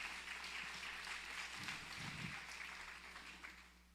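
A church congregation claps together during a worship service, a dense, even patter of many hands heard from a distance that slowly fades toward the end.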